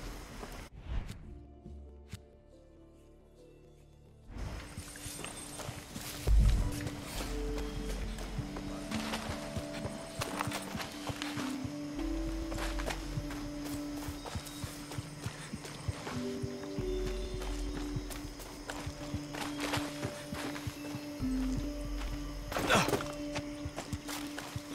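Horse hooves clip-clop steadily at a walking pace in Far Cry 6, close and clear, with occasional snorts over a low ambient game background.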